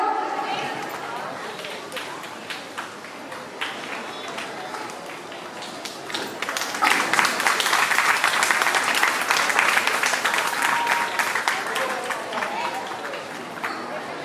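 Sustained applause from an audience at an Independence Day school celebration, steady clapping that swells louder midway and carries on with scattered crowd chatter beneath.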